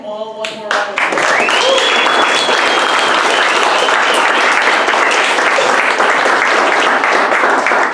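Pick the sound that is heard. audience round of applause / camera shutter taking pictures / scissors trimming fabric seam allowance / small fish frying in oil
audience round of applause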